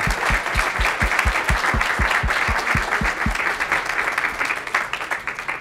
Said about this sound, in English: let's give Jonathan a round of applause